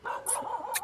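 A pet dog gives a short run of barks and yips, fairly close and moderately loud, with no talk over it.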